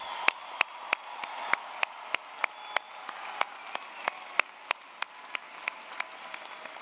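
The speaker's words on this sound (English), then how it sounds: "Everyone, please join me in applauding these outstanding graduates." Graduates at a University of Illinois Chicago spring commencement receive applause, a loud, even patter of audience clapping over a hall wash, punctuated by sharp, regular close claps from one nearby person.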